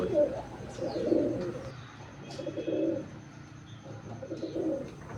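Soft, low coos of Matraj pigeons repeat in rolling phrases, several birds close by, with a few faint chirps and light background noise.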